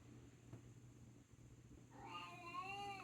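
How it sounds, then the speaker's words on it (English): A pet cat meows close by, a drawn-out wavering call that rises out of a quiet room near the end. "my cat wants to have a conversation."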